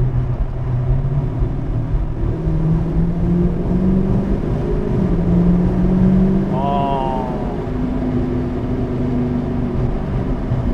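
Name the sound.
Dodge Challenger R/T engine and exhaust after paddle downshift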